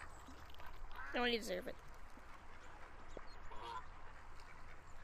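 Cartoonish duck quacks from a VRChat game world, a short burst of a few calls near the start and a fainter one later, mixed with someone talking over them.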